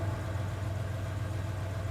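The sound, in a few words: truck engine revving outside, from video game 428: Shibuya Scramble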